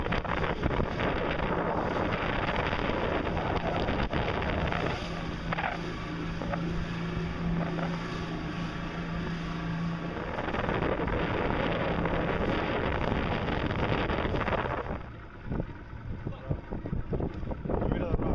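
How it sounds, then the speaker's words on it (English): A motorboat backing up in the Everglades drones with a low steady hum amid heavy wind buffeting the microphone, then the engine noise drops away near the end. "Oh, there he goes, backing the boat up."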